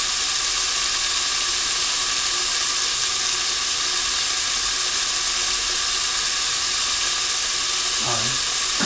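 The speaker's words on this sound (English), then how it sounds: "somewhat of a high heat, okay, because we want to brown the lamb" Lamb browns in a pan over high heat for a curry, giving a loud, steady sizzle and hiss that runs unbroken throughout, with a brief clatter near the end.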